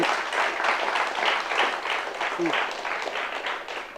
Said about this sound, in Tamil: இந்த கைத்தட்டலே வந்து எனக்கு ஆஸ்கார் விருது கிடைச்சதுக்கான ஒரு கைத்தட்டல் தான்